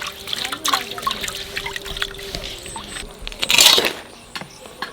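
Native country chicken is rinsed and rubbed by hand under running water, giving a close trickle and splash with squishy rubbing, a louder gush near the end.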